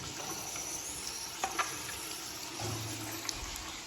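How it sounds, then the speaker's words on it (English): Taps running in an old French château, with a steady hiss of flowing water and gurgling plumbing throughout, plus a few small knocks and a low rumble of pipes near the end. "All right, so we're running all the taps."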